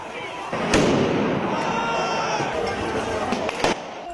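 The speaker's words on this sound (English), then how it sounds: "and setting off firecrackers" Firecrackers set off by protesters clashing with police in Spain crack sharply several times over a dense, roaring crowd, under a narrator's voice.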